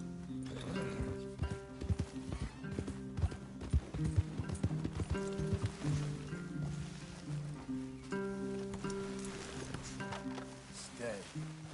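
Steady clip-clop of horse hooves walking at a relaxed pace in the video game Red Dead, close by, with a low musical drone and occasional voices underneath.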